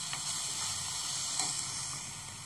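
Onions for a paneer gravy fry in a pan with a continuous, even sizzle and hiss over a brief stretch.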